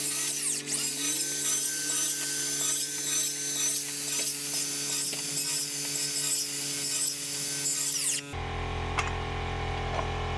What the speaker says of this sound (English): So I'm just gonna do a bunch of rips through this